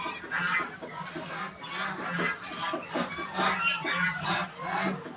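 Chukar partridges, a small flock of eight hens kept in a pen, give a steady chorus of overlapping clucking calls that rise and fall throughout. The calls are close and fairly loud, with no talk over them.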